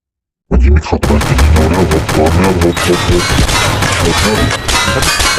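Loud, dense video game gunfire in a Predator war match, rapid automatic bursts stacked with booming shots that run continuously without a break, with faint voices underneath.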